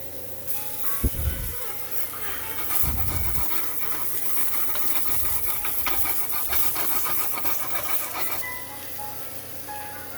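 Tomatoes sizzle on a grill with a steady, close hiss that runs almost the whole way through. A few low thumps and scrapes come early on, as if the tomatoes were being placed or moved.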